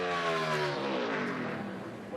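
The Miller Lite Ford stock car races past at speed during qualifying for the 2017 Kobalt 400, its engine a loud, continuous high roar whose pitch drops as it goes by, with no talk.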